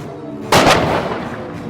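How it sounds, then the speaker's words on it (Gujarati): A Diwali firecracker bomb bursts outdoors with one sharp, loud bang and a short rumbling tail, after quiet background. "બીજો બોમ્બ લેતો આવું. જો આ હે તોતા બોમ્બ"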